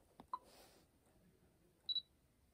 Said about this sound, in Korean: 초점이 맞는 소리 나죠?